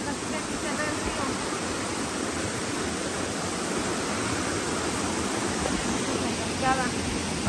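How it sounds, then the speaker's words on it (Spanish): A waterfall on the Apulco river roars as a constant, dense rush of falling water, loud and close, with no pause or change across the whole stretch. "Aquí hay una cascada."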